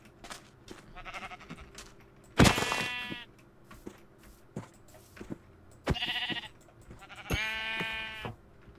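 Sheep in the Minecraft video game bleat in three separate loud, harmonic bursts spaced a few seconds apart, with faint game clicks and quiet background between them.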